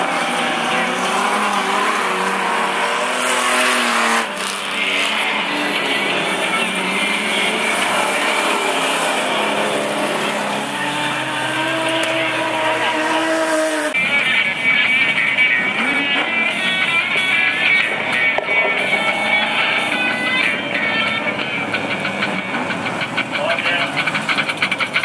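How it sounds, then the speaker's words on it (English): Outlaw sprint sedans race at Mac's Speedway in an eight-lap heat, a constant loud engine roar that rises and falls as the pack circles, with a public-address announcer talking over it throughout. "the Outlaw Sprint Sedans over eight laps. And they're racing out in front there"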